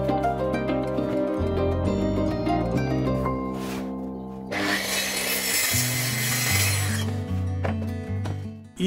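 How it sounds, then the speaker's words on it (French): A plunge saw guided by a jig rips wooden strips to equal width for a laminated yoga bench, with a loud, steady whining cut lasting a few seconds in the middle over continuous background music. "je les découpe à la même largeur grâce à mon gabarit pour 6 plongeantes"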